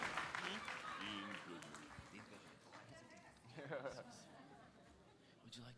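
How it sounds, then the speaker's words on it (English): Audience clapping at a charity auction at a Youth of the Year event, a steady round of applause with chatter and a presenter talking over it. "Let's give her a round of applause."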